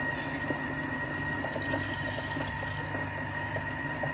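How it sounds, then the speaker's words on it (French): Vodka is poured into a glass jar in a steady, continuous trickle that gurgles faintly under a constant low room hum. "je vais mettre 40 centilitres de vodka"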